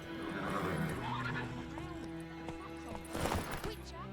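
A horse gallops in The Witcher 3 video game, its hooves clip-clopping steadily under a whinny and game ambience while a player talks over it.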